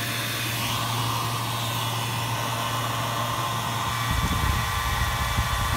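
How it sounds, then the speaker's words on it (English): An all-in-one hydronic cooling system on its first run in evaporative cooling mode gives a steady, broad fan-like whoosh and hum, close and continuous, with a lower rumble joining near the end. "This is now evaporative cooling mode."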